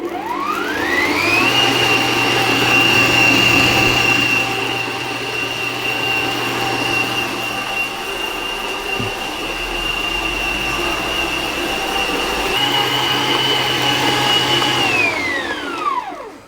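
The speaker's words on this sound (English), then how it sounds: "what I'm going to do is I'm going to increase the speed and knead it for between 6 and 8 minutes" A stand mixer kneads brioche dough at raised speed, its motor spinning up into a steady, loud high whine that holds for over ten seconds, then winds down at the end.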